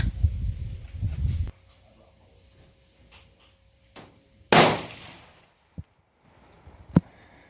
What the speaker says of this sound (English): So she'll shoot another group here